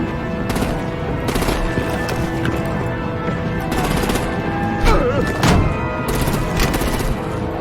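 Dense gunfire and artillery fire in a Batman game play as a continuous wall of battle noise, with several louder blasts standing out from the steady din.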